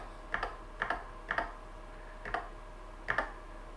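Keystrokes on a NABU computer keyboard, including the backspace key, come in about five short, crisp bursts, some as quick double taps, with quiet pauses between them in a still room.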